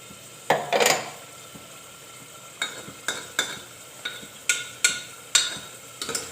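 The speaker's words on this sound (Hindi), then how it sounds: "अब इस तरह हम इसे अच्छी तरह भूनते चले जाएंगे" Ground masala gravy stirred and fried in ghee in a pan, heard as a steady low sizzle broken by sharp, scraping spoon strokes against the pan roughly every half second to second, close and alone.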